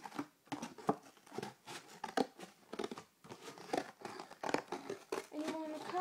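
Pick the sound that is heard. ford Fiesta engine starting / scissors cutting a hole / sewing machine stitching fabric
scissors cutting a hole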